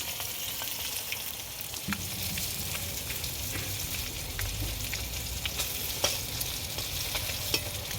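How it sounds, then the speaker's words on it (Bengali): Potato pieces fry in hot oil in a pan, a steady close sizzle and crackle that runs without a break, with a few sharper pops over the constant hiss. "আলুগুলো লাল লাল করে ভেজে নিই।"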